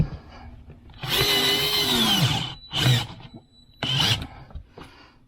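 Screws driven into sheetrock with a power drill during a water system install: two long whirring runs, then two shorter bursts, loud and close with brief pauses between them.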